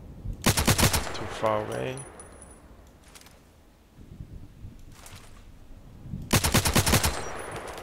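Two rapid bursts of automatic gunfire ring out in Contract Wars, one near the start and another near the end, loud and sharp with quieter gaps between and a brief spoken remark.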